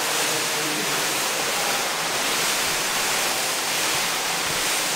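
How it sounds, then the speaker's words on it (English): A cement mixer tumbling an old aircraft fuel tank from a Standard J-1 biplane restoration makes a steady, loud broadband rushing roar, continuous and unbroken with no talk. "with a little trip to Lowe's and a cement mixer, we're tumbling the tank"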